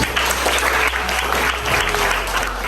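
Audience applause in a teacher-training class session, a steady wash of clapping hands sustained throughout at moderate loudness with no voices over it.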